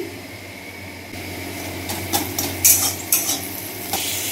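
Bitter gourd being sautéed with cumin and coriander spices, whole pieces pre-boiled, stirred in a pan with a steady low sizzle and a few clinking scrapes of a metal spoon against the vessel.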